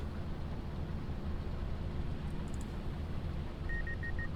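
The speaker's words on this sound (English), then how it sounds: "Got a nice beeping sound in the headphones as soon as it was starting to unload." Short run of electronic beeps, four quick evenly spaced tones near the end, over a steady low engine rumble of farm machinery starting to unload in Farming Simulator 25.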